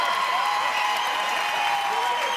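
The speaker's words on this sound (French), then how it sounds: "on peut applaudir dans le rôle de Gaston Lepage" Studio audience applauding a performer on a Quebec television comedy show, a steady dense wash of clapping throughout with faint voices mixed in.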